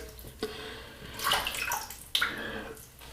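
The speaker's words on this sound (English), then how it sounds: "add a bit of water to the brush" Water splashes and trickles from a tap onto a shaving brush in short uneven bursts, close and fairly quiet.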